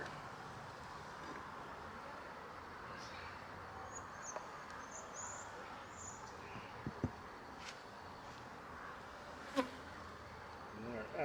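Honeybees buzzing steadily around open hives during a fall inspection before winter, a low continuous drone with a few faint clicks and knocks from handling the frames.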